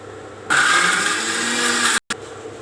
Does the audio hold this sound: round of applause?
no